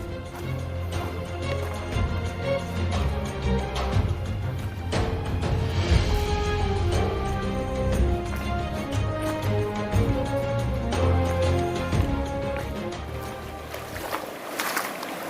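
River water rushing along a trekking route near a waterfall, a steady broadband wash of flowing water, close and continuous, with no talking.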